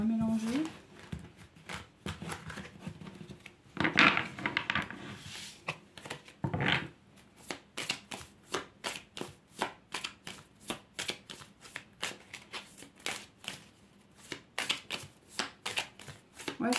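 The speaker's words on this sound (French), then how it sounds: "je vais remélanger." Tarot cards being reshuffled by hand, a run of quick papery riffles and taps in uneven bursts, close and fairly quiet, with a person talking briefly near the start.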